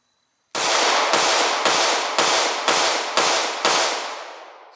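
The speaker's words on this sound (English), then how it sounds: "I'm going to shoot a couple rounds so you guys can see the recoil pattern in it" Seven sharp gunshots from an HK CC9 micro-compact 9mm pistol firing 124-grain rounds at a range, evenly spaced about half a second apart, loud and close, with a decaying echo after the last shot and no talking.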